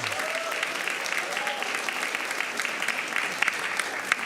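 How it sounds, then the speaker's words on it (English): Attendees at a school district board meeting applaud the monthly attendance winners: steady, dense clapping from a room of people, even in level throughout, with a faint voice underneath. "give them a round of applause"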